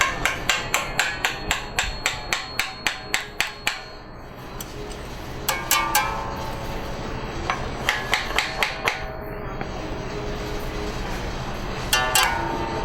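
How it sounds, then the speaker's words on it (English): A wood block hammered along the wire toward a nail on a cigar box guitar, with sharp metallic taps in quick rhythmic runs, pausing and then resuming in bursts, close and alone. "slip that under the wire, and hammer that towards the other nail"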